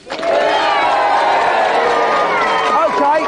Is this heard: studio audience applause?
yes